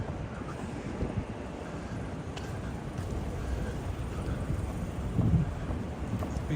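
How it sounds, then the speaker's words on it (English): Strong wind rushes and buffets the microphone during a Tokyo street walk from Shibuya, a steady roaring noise that swells slightly near the end with no clear speech. "It's been quite windy since yesterday."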